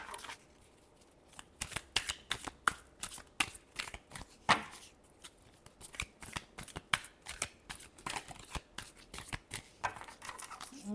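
Tarot cards are shuffled by hand close up, a rapid series of crisp riffling slaps and flicks in irregular bursts with brief pauses between them.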